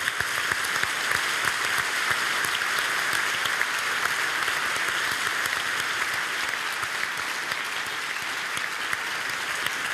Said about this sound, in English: And I think we can give them a clap for that.